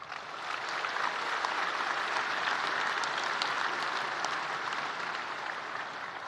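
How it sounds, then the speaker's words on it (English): A graduation audience gives a round of applause, a continuous, moderately distant patter of many hands clapping steadily throughout. "So give them all a round of applause."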